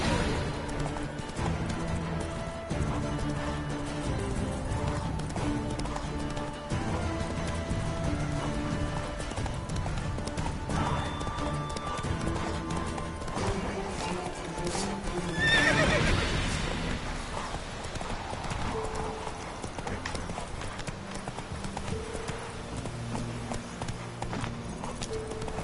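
A horse gallops with continuous, rhythmic clip-clopping hooves in The Witcher 3: Wild Hunt video game, and a clear neigh breaks through midway over a steady background.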